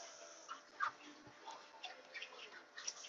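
Ducks and chickens crowd around the feet at feeding time, giving scattered soft clucks and quacks at a modest level with faint background noise and no talking.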